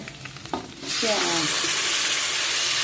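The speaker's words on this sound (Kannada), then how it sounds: "ಈರುಳ್ಳಿ ಚೆನ್ನಾಗಿ ಫ್ರೈ ಆಗಲಿ ಈರುಳ್ಳಿ ಫ್ರೈ ನೋಡಿ" Onions frying in a pan for an okra gojju; a loud, steady hiss of oil bursts in after a few soft kitchen knocks and holds, close and dense, to the end.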